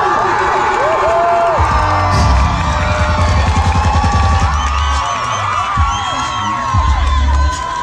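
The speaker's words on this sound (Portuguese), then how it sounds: "Faz barulho pra ela, Samara!" Crowd at a street passinho dance competition cheering and whooping loudly and continuously under an announcer's amplified voice, with bursts of shouting and a thumping beat.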